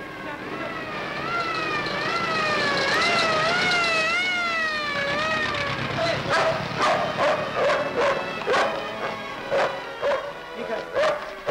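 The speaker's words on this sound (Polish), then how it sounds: "Pies zna drogę. Pobiegnie do Jadzi" A dog barks repeatedly in short, loud bursts through the second half, following a wailing siren-like tone that dominates the opening seconds; voices may be mixed in beneath.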